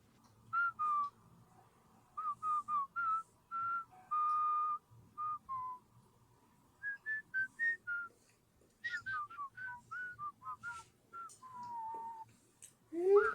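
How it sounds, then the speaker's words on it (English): Melodic whistling from the detention scene in The Breakfast Club, a string of short tuneful phrases with gaps between them, clear and fairly close, over a quiet room. "The iconic whistle scene."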